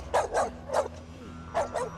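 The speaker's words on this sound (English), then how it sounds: "So Blackie is the perfect guard dog" Guard dog barking in a TV drama scene, five loud deep barks in quick pairs with a pause in the middle, over a faint low background hum.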